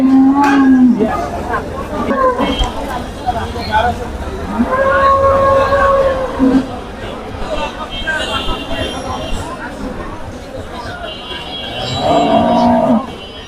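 Cattle at a rural Qurbani livestock market moo in several drawn-out, tonal calls, some near and loud, over constant crowd chatter and bargaining voices.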